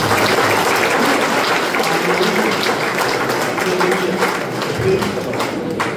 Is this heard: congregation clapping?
yes